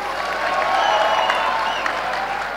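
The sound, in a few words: loud applause from audience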